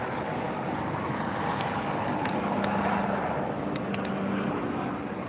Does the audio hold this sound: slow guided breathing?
no